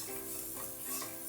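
Spices being sautéed in a pan for a Singapore chicken fried rice give a steady, low sizzle with light stirring scrapes, fairly quiet and continuous, with no one talking.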